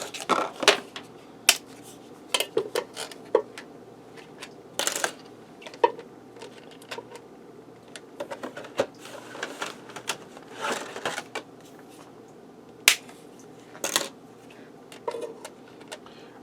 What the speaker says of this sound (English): I'm going to have to break them because you see they're too big to fit